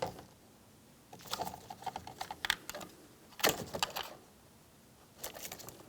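A locking tab on a mirror connector of a 2007-2014 GMC Sierra 2500 HD is pried loose: a few short bursts of crisp plastic clicks and snaps, close up, separated by quiet gaps.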